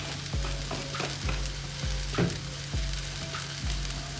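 Curry leaves sizzle in hot oil in an okra masala, a close crackling fry punctuated by several regular scraping stirs of the pan.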